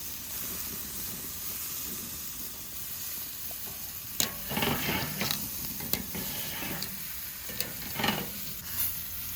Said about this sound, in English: Rotate them out so you have a decent searing on all four sides.